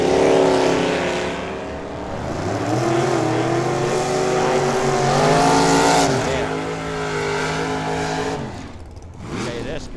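Camaro drag cars racing down the strip at Firebird Motorsports Park, a loud continuous engine roar with rising revs across the run, under a track announcer's voice.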